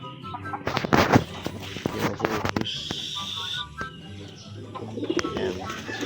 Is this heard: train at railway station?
no